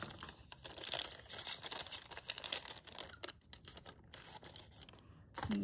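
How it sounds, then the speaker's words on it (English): Large scissors snip repeatedly through paper in quick, close crisp cuts, mixed with light paper rustling and crinkling. "So I'll just use a bigger scissors"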